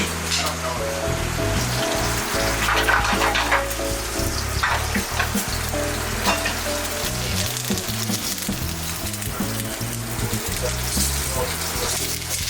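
Quail searing in a hot pan, being turned to brown on all sides, a loud continuous crackling sizzle with brief clatters throughout.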